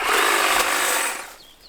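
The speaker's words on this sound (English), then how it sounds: "We have a man using his fancy new tool. A hedge trimmer." A new hedge trimmer runs steadily at a garden plant nursery, a loud continuous buzzing motor that fades and trails off near the end.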